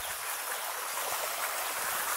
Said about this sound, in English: Coconut farm has water running in.